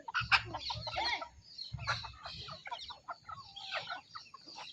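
Multi-coloured desi hens cluck and squawk close by in busy overlapping bursts, sharp calls and chatter repeating irregularly with a low rumble underneath.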